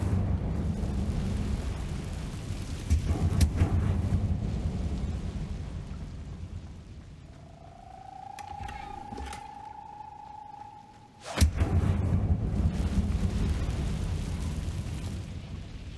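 A fire spell being cast in the video game Hogwarts Legacy: a whooshing, rumbling burst with a sustained tonal hum, ending in a sharp crack, set over a steady low game ambience.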